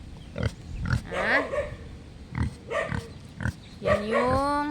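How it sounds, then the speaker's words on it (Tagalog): Several pigs grunt and squeal in a pen beside a river on a windy day, bursts of close, loud oinks repeating irregularly with short gaps between them. "May baboy sila dyan tatlo."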